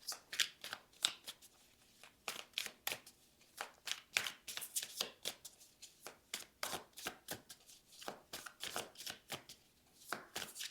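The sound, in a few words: shuffling tarot cards for a reading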